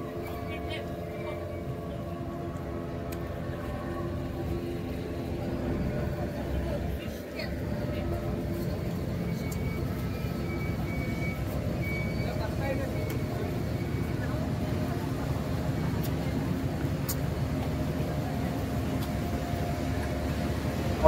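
Boat engine on a trip to St. Martin's Island: a low, steady droning hum runs at an even, moderate level throughout, with faint voices and light background noise over it.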